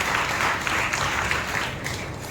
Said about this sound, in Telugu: చప్పట్లు కొని మనం ప్రభువును స్తుతిస్తాం.